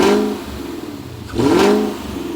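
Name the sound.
BMW E39 540 M62B44TU V8 engine revving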